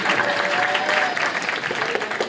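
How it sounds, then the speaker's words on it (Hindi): Audience applause at a Hindi poetry gathering in Badnawar, a loud, dense and steady burst of many hands clapping together for a couple of seconds. "एक बार जोरदार ताली बजाओ"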